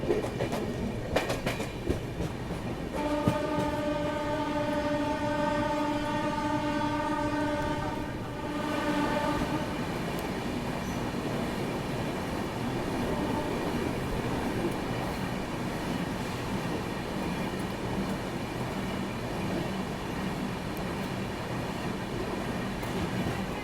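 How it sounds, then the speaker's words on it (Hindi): The Kolkata Duronto Express rolls slowly along the track with a steady rumble and wheel clatter, and a long horn blast sounds early on. The train noise continues without speech. "इतना क्यों स्लो हो गई गाड़ी अपनी।"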